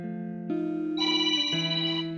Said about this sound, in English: She's getting a phone call.